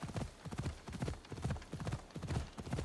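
Horse hooves clip-clop steadily at a walking pace in the Assassin's Creed Odyssey video game, a soft, even rhythm of repeated hoof strikes heard without talk.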